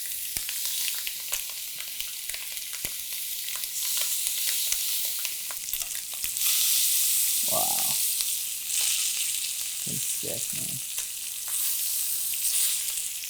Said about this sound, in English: now that our pan is ripping hot, let's get the thighs in, skin side down. That sound is important